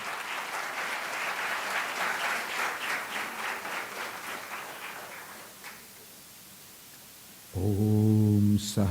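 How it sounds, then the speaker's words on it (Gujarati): Loud, sustained applause from an audience at a book-launch ceremony honouring Swamiji, a dense clapping roar that fades out after about six seconds before a low tonal hum begins. "ખૂબ જ જોરદાર તાળીઓના ગડગડાટથી સ્વામીજીને આશીર્વચન આપવા માટે આપણે વિનંતી"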